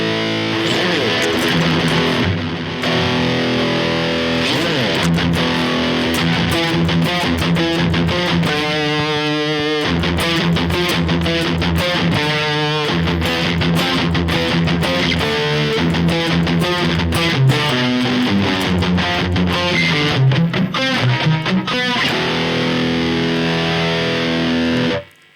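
Heavily distorted electric guitar, a Harley Benton Fusion 3 through a Vox Tonelab SE using a Rectifier amp model with tube overdrive, no delay or reverb, plays a continuous riff of chugging chords and sustained notes, loud and saturated, ending abruptly.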